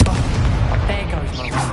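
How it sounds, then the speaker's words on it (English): A loud Incendio fire spell blast in Hogwarts Legacy, a booming whoosh of flame that fills the moment and tails off with a crackling roar, with no voice over it. "Incendio!"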